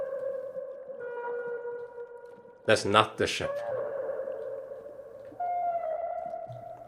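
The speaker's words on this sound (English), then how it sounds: "Sounds like a space whale." Eerie whale-like tonal calls drone and swell in a space setting in the horror game Mouthwashing, sustained moans with a loud pair of harsh bursts midway, a voice speaking over them.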